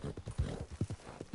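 Red Dead Redemption 2 horse hooves gallop in a quick, rhythmic run of thudding clip-clop beats, close and fairly loud, with no talk over them.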